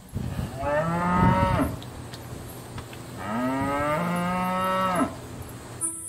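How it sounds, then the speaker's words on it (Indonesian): A cow moos twice in long, loud, drawn-out calls with a pause between them, and no other sounds compete with it. "Ah, betul. Itu namanya sapi."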